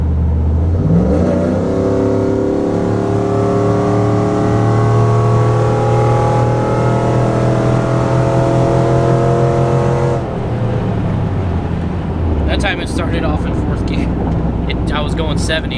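A tuned car accelerates hard to pass another vehicle on a highway, its engine note climbing steadily in pitch through a long pull before easing off, loud from inside the cabin while the driver talks over it.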